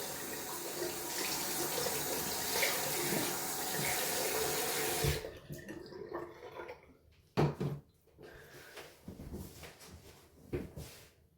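Water from a running tap rinses lather off a Ceveem safety razor at a sink, a loud steady rush for about five seconds, then intermittent splashes and trickles as the flow is interrupted.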